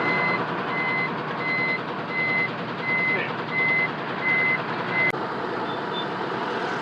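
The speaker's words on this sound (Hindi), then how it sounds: "तो यहाँ ट्रैफिक जाम बहुत ज़्यादा लगा हुआ है।" A truck's reversing alarm beeps in a steady repeating rhythm over idling truck engines in a traffic jam at Mysore's entry amid road construction, followed by a sharp air-brake hiss near the end.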